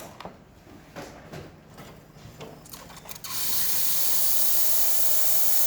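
Steam wand of an Isoma Milano espresso machine bursts into a loud, steady hiss midway, following quieter clicks and faint handling noises.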